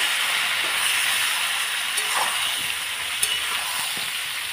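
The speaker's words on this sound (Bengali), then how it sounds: "এবার এটাকে ভালো করে একটু নাড়িয়ে নেব" Potato and pointed gourd vegetable curry being stirred in a pan, a continuous soft sizzle with faint scraping stirs and a few small clicks of the utensil, no voices.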